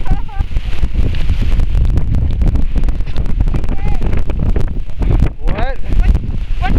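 Intense blizzard winds gusting at 70 km/h roar and buffet the microphone in a loud, continuous rush, with people's voices mixed into the wind noise.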